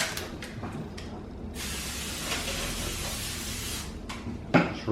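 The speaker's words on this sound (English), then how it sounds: "And then you spray the parchment paper." Cooking spray hisses onto parchment paper lining a baking pan for brownie mix, a few short clicks and puffs followed by a long steady spray and a brief final burst, close by with no talking.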